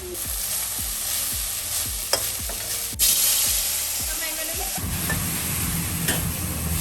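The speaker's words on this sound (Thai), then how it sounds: "จะใส่หมูกรอบลงไป จะคั่วเขาให้มันแบบมีความร้อนขึ้นมานิดเดียวนี่เลย กระเทียมลงไป" Crispy pork and garlic stir-frying in a hot wok for pad kra pao, with a steady loud sizzle under repeated rhythmic scrapes and knocks of a spatula tossing the food, close up.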